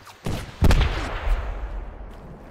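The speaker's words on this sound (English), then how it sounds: "There's an AR firing!" Two sharp, close assault rifle cracks ring out in the video game Project Reality, each trailing off in a long echoing decay across open terrain, with no talk over them.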